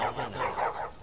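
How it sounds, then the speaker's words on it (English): Dogs bark in The Last of Us, a quick run of rhythmic barks layered with voices talking, all in about a second. "Like, dogs sound amazing"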